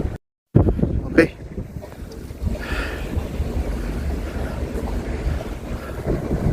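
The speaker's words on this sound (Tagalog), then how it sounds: "Ang lakas ng hangin eh." Strong gusts at Kapurpurawan, Ilocos Norte, buffet the microphone in a constant low roar, with water sloshing and a murmur of speech underneath.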